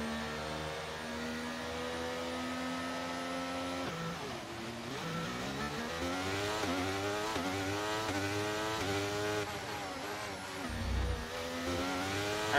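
F1 cars in the F1 23 video game launch off the grid at the Monaco race start, a steady engine hum breaking into rising, overlapping revs as the pack accelerates together.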